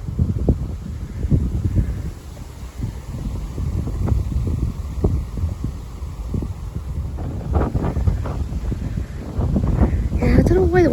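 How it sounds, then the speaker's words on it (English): Strong wind buffets the microphone near Torwood Castle, a loud continuous roaring rumble with gusty bursts that swell toward the end, while a person talks briefly under it. "That wind's really picking up."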